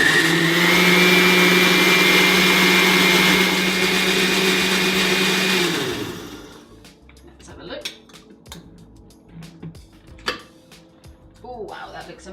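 A kitchen blender whirring loudly as it purées soup with hot water, running steadily for several seconds before switching off, followed by clinks of dishes and spoons.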